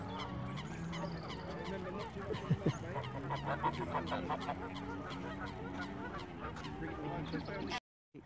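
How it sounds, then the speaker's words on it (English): A large flock of geese honks continuously in a dense, overlapping chorus at middle distance, loud and unbroken until it cuts off abruptly near the end. "Oh my gosh, all the geese."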